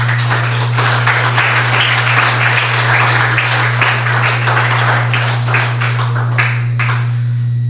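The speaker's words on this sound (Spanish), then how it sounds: "Dele un aplauso al Señor" A church congregation applauds together in a steady, dense wash of clapping that runs unbroken from start to finish, with a constant low electrical hum from the sound system underneath.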